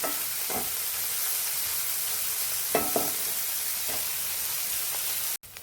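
Onion frying in oil in a pan while cooking masala bombil, a steady close sizzle with a few stirring scrapes and a sharp cutoff near the end.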